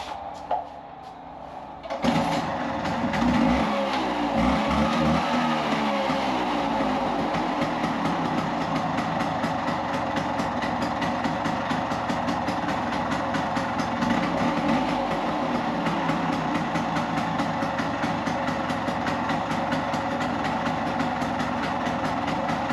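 Vespa scooter engine running again after a new fuel hose and clamp were fitted, starting with a clunk and then idling steadily with a loud, buzzing drone close by for the rest of the time, with no talking.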